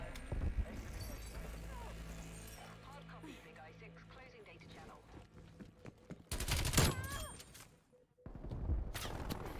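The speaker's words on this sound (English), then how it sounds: "That's a sentry gun." Automated sentry gun and other weapons firing in Call of Duty: Black Ops Cold War, sharp bursts of gunfire and impacts under a player's talk, with a louder crackling volley near the end.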